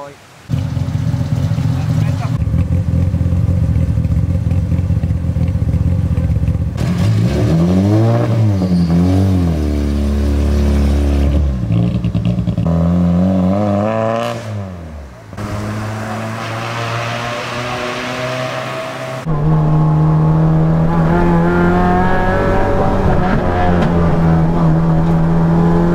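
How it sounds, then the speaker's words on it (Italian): A loud rally car engine revving and roaring, pitch climbing and dropping through gear changes, heard close from inside the car. "la macchina faceva un rumore atroce"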